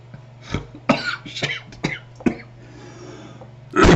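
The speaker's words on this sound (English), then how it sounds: "so where's this cough coming from?" A man coughing in a series of harsh, close bursts, about five or six spaced coughs over a low steady hum, followed by a loud noisy burst at the end.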